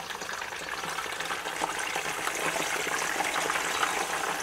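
Chicken pieces frying in hot oil, cooked in a car, give a steady crackling sizzle that swells slightly after going into the pan, close and moderately quiet with no speech.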